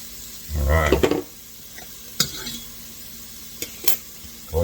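Garlic sizzles and is stirred around a frying pan, with a loud burst of scraping and sizzle early on, then a quieter steady fry broken by a few sharp utensil clinks.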